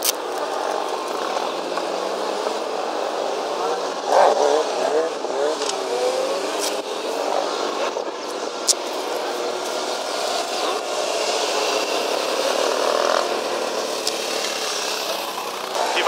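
A KTM EXC 300 two-stroke dirt bike engine runs steadily nearby, producing a continuous raspy, buzzing drone with slight rises and a few brief mechanical clicks, and no clear talk over it.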